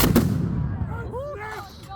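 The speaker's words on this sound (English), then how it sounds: "Take care to fire by battalion. Make ready. Take aim." A battalion of reenactors fires a musket volley as a single loud blast, and the echo decays over the next couple of seconds. Faint voices can be heard afterward.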